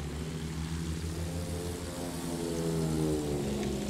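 A propeller attack plane in a combat video game drones with a steady, loud, rumbling engine note and a pulsing throb that continues unbroken throughout, with no talking.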